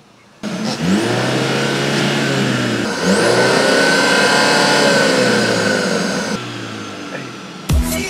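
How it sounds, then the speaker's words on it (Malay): A Mercedes-Benz C300 engine revs hard through its standard exhaust, rising and falling in loud, sustained bursts with a deep throaty rumble, then cuts off abruptly. "exhaust standard dengan sistem EQ. Inilah bunyi dia."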